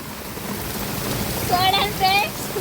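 Steady heavy rain beats on a thatched hut in a constant broadband wash, with a voice speaking briefly near the end.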